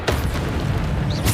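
A Bombarda spell explosion in Hogwarts Legacy, a deep sustained boom filling the whole moment, with a fresh burst breaking in at the very end.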